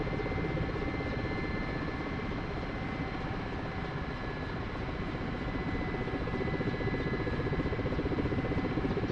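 An Mi-8 helicopter in a flight simulator game drones continuously with a dense, steady rumble of rotor and engine throughout.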